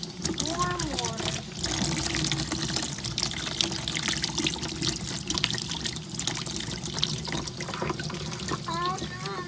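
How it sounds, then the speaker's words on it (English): Warm water pours and trickles steadily into a washing machine drum, a continuous splashing wash heard close up throughout while a person talks over it. "Oh, look, it's a waterfall."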